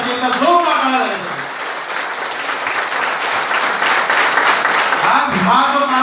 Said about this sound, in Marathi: एका जोरदार टाळ्या झाल्या